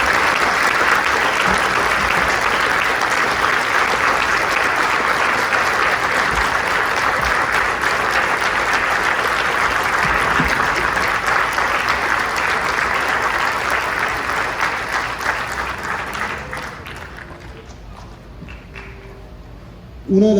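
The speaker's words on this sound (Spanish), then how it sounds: "Quiero pedirles un aplauso para él," A large audience applauds in a sustained, loud wash of clapping that holds steady for about fifteen seconds, then thins and fades away toward the end.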